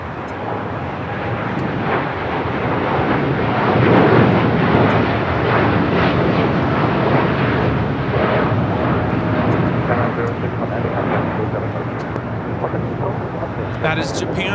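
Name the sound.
Japan Airlines Boeing 787-9 Dreamliner taking off at LAX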